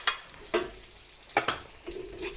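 Onion, garlic and ginger sauté in a pan while a utensil stirs them, giving a soft continuous sizzle broken by several sharp scraping strokes, close up and without talk.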